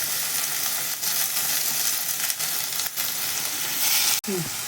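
Tomatoes and capsicum sautéing for an egg roll filling, sizzling loudly and steadily in a close pan, with occasional stirring scrapes and a brief sharp knock near the end, while a voice talks faintly underneath.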